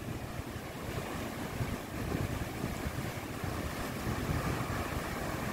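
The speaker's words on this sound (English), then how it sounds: "the waves are big. They're crashing." Strong wind and big waves crashing on a heavy-wind day at the shore, a dense continuous rumble of surf under gusty wind buffeting the microphone, with no voices.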